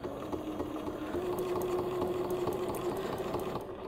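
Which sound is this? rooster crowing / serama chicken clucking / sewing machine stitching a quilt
sewing machine stitching a quilt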